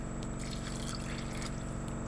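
Water poured into a pan of masoor (lentil) curry being cooked as a semi-dry vegetable dish, a steady close trickle and splash running continuously for about two seconds with no talk.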